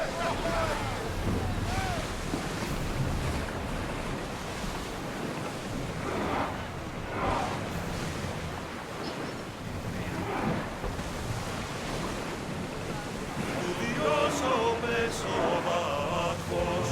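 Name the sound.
ship sailing on ocean waves in Assassin's Creed Odyssey video game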